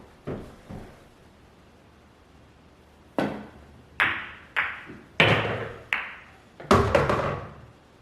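Pool balls clack on a Mosconi Cup table: two soft knocks, a pause, then a quick sequence of sharp, ringing ball-on-ball collisions, each decaying briefly, heard close in a quiet hall.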